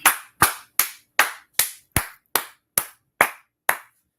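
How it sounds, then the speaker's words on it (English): Ten evenly spaced sharp hand claps in a slow, steady rhythm, loud and close with a clean stop after each, no talk, at a brotherhood gathering. "And with that being said, clap it up."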